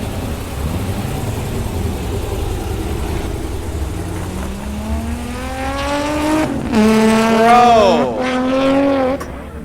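A Corvette runs laps on a race track, its engine note rising steadily as it accelerates past at close range, with a brief spoken word near the end.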